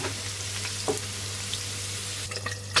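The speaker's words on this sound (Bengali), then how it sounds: "এখন ডিমের জন্য আলু ভাজবো আলুগুলো ভেজে উঠিয়ে নিব" Potatoes frying in oil, a steady sizzle over a low mains hum, with a few brief clinks and scrapes from a utensil and no speech.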